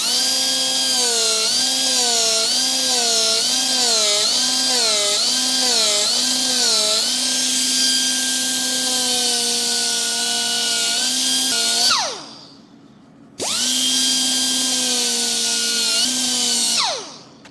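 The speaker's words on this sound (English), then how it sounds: "this is a 3-inch Scotch-Brite little angle sander, and it's just a zillion times faster" Small 3-inch Scotch-Brite angle sander working over a forged steel blacksmithing hammer head, a loud, steady high whine that wavers in pitch as pressure shifts, cutting off briefly near the end before spinning back up, with no talking.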